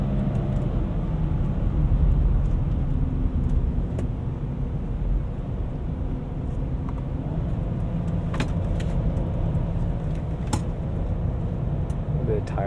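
A 2014 BMW X3 M Sport on winter snow tires rolls along with a steady, close tire and road rumble, heard from inside the cabin with no talking.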